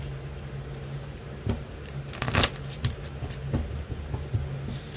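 Indigo oracle cards are shuffled by hand in a steady, close riffling patter with a few sharper flicks and slaps, quiet and continuous with no voice over it.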